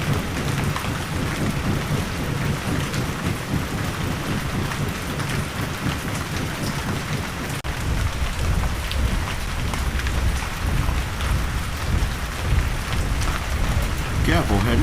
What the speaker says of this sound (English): The rain's pretty bad out here.